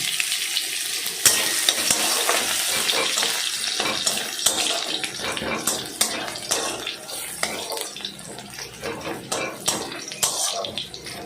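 Dried red chilies and crushed garlic frying in hot oil for a dal tempering, a loud, dense, close sizzle with frequent spatters and stirring clatter throughout.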